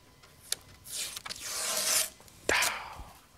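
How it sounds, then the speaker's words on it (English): Masking tape (3M Precision tape) being pulled off car paint on a BMW G80 M3 after polishing gives a couple of drawn-out ripping rasps with short sharp snaps between them. The sounds are close and fairly quiet, and there is no talking. "we can pull the tape right off"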